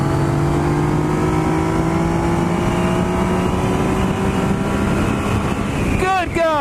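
A 2016 Yamaha XSR900 triple-cylinder motorcycle accelerates hard, its engine note climbing steadily through the gears under heavy wind rush, with a loud close roar throughout.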